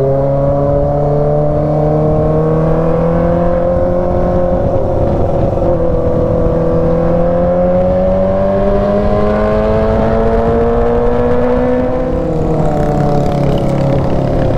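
A motorcycle engine roars loudly and continuously on a city street in Manggarai, Jakarta. Its pitch climbs and dips as it revs, and it sounds close and steady throughout with no talking.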